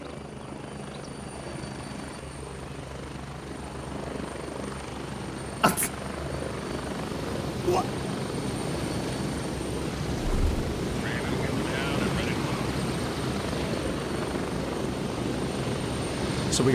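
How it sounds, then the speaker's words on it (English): Helicopter rotor and engine noise in the video game Gray Zone Warfare, a steady low drone with a few sharp clicks over it and someone talking across much of it. "They're going to wait on the heli."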